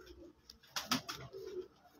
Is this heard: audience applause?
no